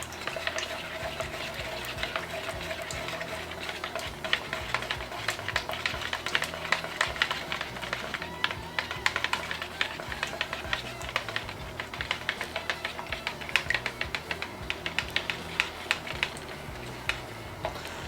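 Thickened epoxy being stirred for a boat refit, a steady stream of close, quiet scraping and clicking stir strokes with a light wet, crackly texture, continuing without talk.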